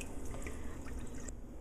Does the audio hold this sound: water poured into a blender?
yes